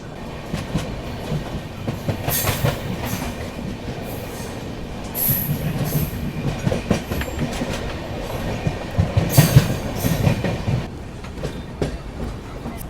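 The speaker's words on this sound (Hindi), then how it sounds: "चलिए, यहाँ पे अपनी ट्रेन का अराइवल हो रहा है अभी धनबाद जंक्शन रेलवे स्टेशन पर" The Sampark Kranti Express rolls into Dhanbad Junction station with steady clattering wheels, rhythmic clickety-clack over rail joints and bursts of metallic squeal, heard from on board at moderate loudness.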